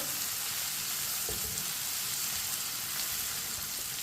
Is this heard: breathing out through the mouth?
no